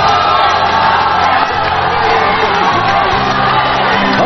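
A studio audience of the CCTV talk show Art Life welcomes a singer on stage with loud, dense applause mixed with cheers and whoops. The noise is close and continuous for about four seconds.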